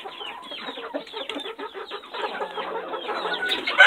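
Backyard laying hens cluck and chatter in a busy, overlapping chorus of short, clipped calls, close by and fairly loud, growing denser toward the end.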